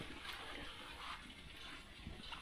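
Water rushes and gurgles steadily through the fuel tank of a Plymouth NASCAR tribute car as it is flushed out, a continuous washing flow heard close with no talking.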